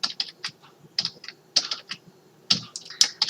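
Keys clatter on a computer keyboard while code is being typed: quick bursts of crisp clicks with short pauses between them, close and clear, no voices.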